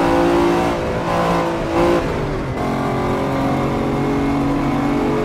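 A Lamborghini Diablo VT's engine roars steadily in an Assetto Corsa AI race, a loud, continuous drone of layered harmonics with a brief dip and shift in pitch partway through, with no talking.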